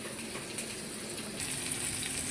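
Surmai (kingfish) fillets fry in hot oil in a pan, a steady close crackling sizzle that continues evenly throughout, with no talking.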